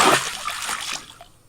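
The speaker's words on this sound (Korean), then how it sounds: "콸콸콸 성전문에서 물이 계속 흘러나왔어요" Water gushing and pouring out of a temple doorway, a loud rushing splash that fades over a second and a half, with no talking.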